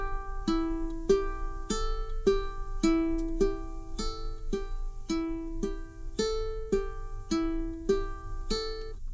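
A ukulele finger-picking pattern played at a brisker pace, thumb and fingers alternating across the strings in a steady run of clear, ringing plucked notes, close and soft, with no voices.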